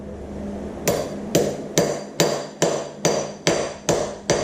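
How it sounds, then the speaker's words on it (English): Nine sharp metallic hammer blows on a bolt in a Farmall Super MTA tractor transmission ring out in a steady rhythm, each strike loud and close with a brief ringing decay. "So I'll take my hammer"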